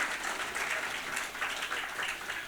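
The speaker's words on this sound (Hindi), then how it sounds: "इसलिए मैं चाहूँगा एक बार जोरदार तालियां हमारे कुसुम जी के लिए।" An audience at a Bharatiya Bhasha Parishad founders' day and award ceremony applauds with dense, steady clapping that fills the whole stretch at an even level, with no voices over it.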